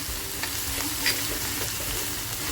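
Masala for a small-prawn karandi dish frying in a pan, a close, steady crackling sizzle with a faint clink partway through, no talk.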